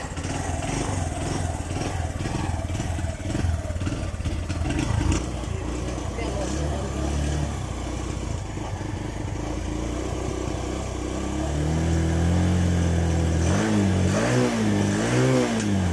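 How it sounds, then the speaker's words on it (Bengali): A 2014 TVS Metro 100c secondhand motorcycle with 29,000 km on it runs close by, idling unevenly, then revving in rising and falling bursts toward the end, with talk over the engine. "আমি বাইকটি আপনাদেরকে সাউন্ডও শোনানোর চেষ্টা করব।"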